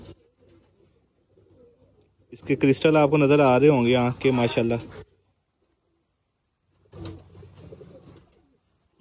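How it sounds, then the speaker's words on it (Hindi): Malai botiyon pigeons cooing up close, a loud burst of throaty rolling coos followed after a pause by a softer, shorter coo, with someone talking in between. "मलाई बोटियों वाले कबूतर हैं ये"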